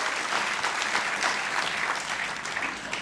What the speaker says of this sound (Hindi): एक बार जोरदार तालियों द्वारा हम सभी बंधुओं का अभिनंदन करें, साधुवाद दें।